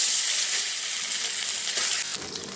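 Taro paste ground with green chilli and salt hits hot tempering oil with a steady, bright sizzle that fades slightly, then a short scrape and stir near the end.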